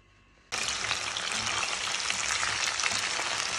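Loud, steady sizzle of tripe and vegetable ingredients for a hot Kazakh salad dropped into hot oil, bursting in suddenly after a brief quiet moment and crackling continuously close up.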